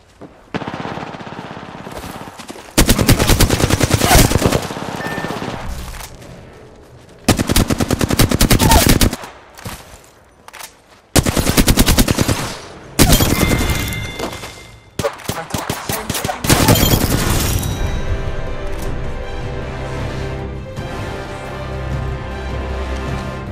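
Bursts of automatic gunfire from Apex Legends, several loud rapid-fire volleys separated by short quiet gaps, the last stretch shifting into a longer ringing run of shots with a lingering tail, no voices heard.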